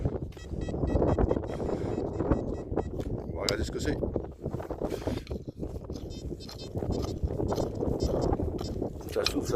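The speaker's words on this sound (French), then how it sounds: "le vent est terrible, le vent est terrible" Strong wind gusting across an open field, buffeting the microphone as a steady broadband roar with brief dips, while someone talks over it.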